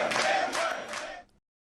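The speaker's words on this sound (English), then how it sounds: "Fewer, the crowd chants." A large crowd at a political rally chants a slogan in unison, a loud massed roar of voices in a few swelling pulses that cuts off abruptly.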